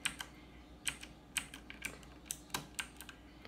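Keystrokes on a T-Dagger gaming keyboard, a dozen or so crisp clicks tapped in an irregular rhythm, close and fairly quiet with no talking.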